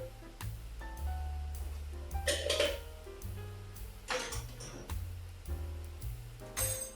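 Quiet clinking and scraping of a utensil stirring chicken with tomatoes and spices in a pan, with irregular knocks over a low steady background hum.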